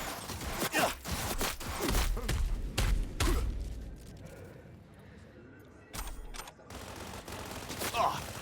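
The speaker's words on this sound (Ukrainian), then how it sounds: "Хто там стріляє?" Gunfire in the video game Cyberpunk 2077, several sharp bursts and single shots in an irregular pattern with quieter gaps between them, fairly loud and close.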